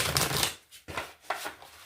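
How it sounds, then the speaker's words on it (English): Tarot cards being shuffled by hand, heard as a few quick riffling bursts of crisp card noise separated by short pauses, close by and fairly soft. "I've been shuffling quite a bit, I think."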